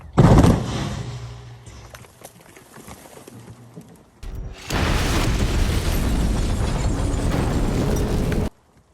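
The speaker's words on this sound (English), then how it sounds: "the explosion of the house was done on set" A house explosion set off on location for a period drama production: a sharp boom at the start, a quieter stretch, then a sustained loud roar of blast and debris lasting several seconds before cutting off.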